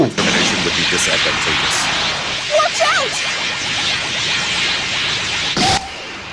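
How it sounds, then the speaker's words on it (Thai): An energy blast explodes in the Dragon Ball FighterZ video game: a loud, sustained rushing roar fills the whole stretch, with a sharper burst near the end. "แล้วจึงยิงพลังใส ่โกคู"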